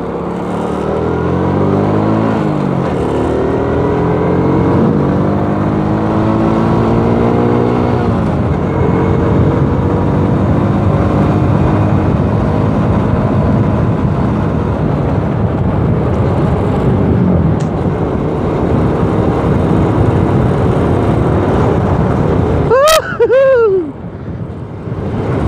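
A Karisma 125D motorcycle strains in first gear, its engine note climbing and droning loud and steady over heavy wind rush, with a brief sharp sound late on and no speech.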